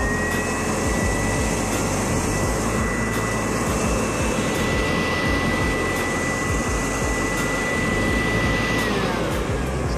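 A WORX WG512 Trivac 2.0 electric 12-amp leaf blower runs in blow mode with a steady, loud, unbroken whine and rushing air roar, its pitch holding level for several seconds before dipping slightly near the end, with no talking.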